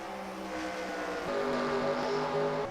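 Race cars running side by side in a racing video game, a continuous droning engine roar with shifting harmonic whine rising slightly in the second half, loud and steady, no commentary.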